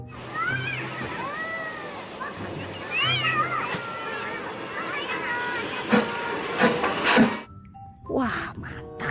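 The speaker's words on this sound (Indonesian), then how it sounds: "Wow, ada kereta api Thomas." A toy Thomas train plays its electronic sounds, a stream of chirpy whistle-like tones over a steady hiss and rumble, ending with sharp clicks as it cuts off.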